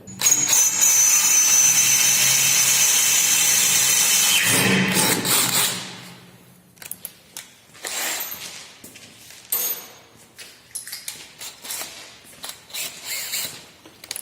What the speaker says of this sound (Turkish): Şimdi şarjlı matkapla e, delme işlemini gerçekleştireceğim